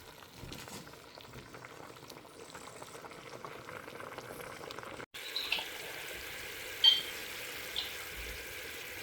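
Coconut milk cooking down in a pan until it renders into oil, a quiet bubbling and faint sizzle with occasional small pops, low and close throughout.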